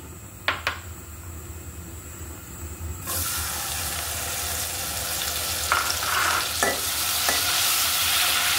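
Nuts frying lightly in a pan while semai is prepared, a steady soft sizzle and hiss with a few brief clinks and scrapes of stirring, close and continuous with no talking.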